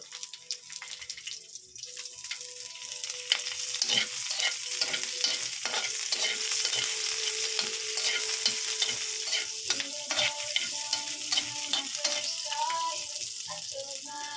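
Onions sizzle steadily in a pan for squid adobo, with repeated stirring and scraping scattered over the continuous frying hiss.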